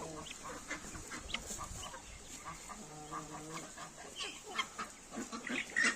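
Maran and Legbar hens in a backyard poultry yard cluck and murmur in short, scattered bursts, fairly faint and close, with other fowl calling softly around them.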